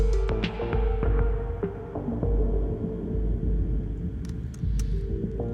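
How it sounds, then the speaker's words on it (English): Music washed in reverb that starts with a very short decay and grows into a long, about fifteen-second tail, giving a smeared, throbbing, humming sound with low rumble that fades as if moving away. "we start out with a very short reverb and then we get to something much longer"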